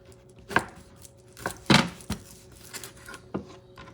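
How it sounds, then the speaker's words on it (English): A knife chops through hard chorizo sausage on a board in a few sharp, separate thunks, close and fairly loud, with quiet gaps between cuts. "I'm going to go with the knife. This baby is hard."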